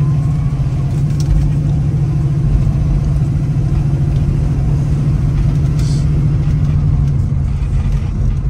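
A 1973 Ford Mustang Mach 1 with a 351 CJ V8 drives by, its engine a steady, loud, close rumble with no clear revving or speech.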